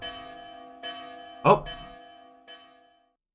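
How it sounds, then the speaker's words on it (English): Sentry tower alarm bell in Fate/Grand Order, several resonant clangs ringing out with long decaying tones, one loud strike near the middle; a voice briefly exclaims during it. "That's the alarm bell for the sentry tower."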